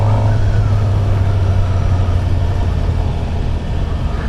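A Suzuki GSX-R 750 sport motorcycle engine at a dealer demo day gives a loud, steady, close roaring drone that holds for several seconds with a slight dip near the end.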